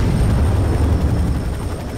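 Loud, steady low rumble of a helicopter's rotors and engine in the first-person shooter F.E.A.R. 3, a continuous roar that holds throughout with no talk over it.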